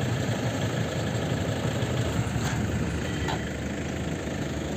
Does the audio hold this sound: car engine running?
yes